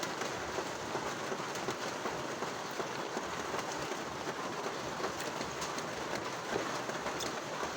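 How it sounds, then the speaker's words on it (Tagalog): Heavy rain pours steadily over farm fields, a thick constant roar of water with a low rumble underneath and no voices. "Yung malakas yung ulan sa bukid"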